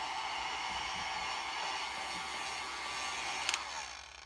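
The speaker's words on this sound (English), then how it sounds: "Let me do some of this, the dryer." A hair dryer blows with a steady, loud airy roar throughout, drying paint between coats on a painted figure, with a brief click near the end.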